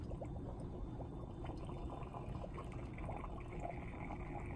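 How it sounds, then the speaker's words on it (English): Gas bubbling through water in a lab flask during a cellular respiration experiment with ungerminated beans, a steady dense gurgling and churning that fills the whole stretch at an even level. "so it's gonna start bubbling now."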